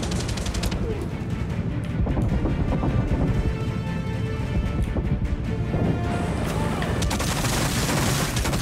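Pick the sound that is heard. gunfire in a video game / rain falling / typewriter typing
gunfire in a video game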